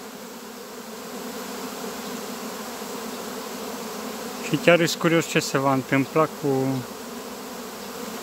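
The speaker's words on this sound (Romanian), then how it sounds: "aceste albine, zboară ca nebunile aici" Honey bees swarm densely around a hive in an apiary, a steady close buzzing drone throughout, with someone speaking over it in the second half.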